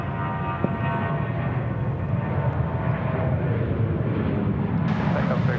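A jet airliner taking off at Sydney Airport gives a loud, steady broadband roar that fills the whole clip and swells toward the end, with no talk over it.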